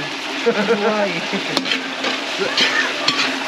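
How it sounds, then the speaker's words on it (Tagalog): Colourful mixed vegetables deep-fry in hot oil, giving a steady sizzle with scraping stir noises and a few sharp pops and clinks, close and moderately loud. "i-fry lang natin hanggang sa makuha natin yung ano"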